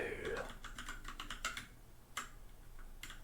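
Rapid computer keyboard typing in a quiet room, bursts of clicky keystrokes at an uneven pace, close and fairly soft, with a brief breathy sound at the start.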